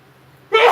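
A woman lets out a single short, sharp sneeze after a moment of near silence, close and loud.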